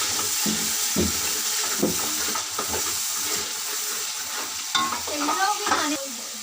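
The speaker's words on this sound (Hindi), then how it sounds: "इसको अच्छी तरह से मिक्स करेंगे।" Beef karahi masala frying in a pan while a spoon stirs through it, a steady close sizzle broken by repeated scraping and clanking strokes, with no voices over it.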